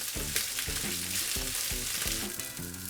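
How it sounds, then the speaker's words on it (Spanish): Broccoli and rice sizzle steadily in a hot pan while a utensil stirs them, with rhythmic scraping strokes repeating over the constant frying hiss. "echamos el brócoli y seguimos removiendo con alegría"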